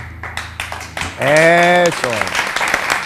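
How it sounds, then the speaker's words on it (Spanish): Audience applause breaks out in a live entertainment show, scattered claps mixed with cheering and a loud held voice or shout in the middle, with a crowd close by. "Ahora los aplausos."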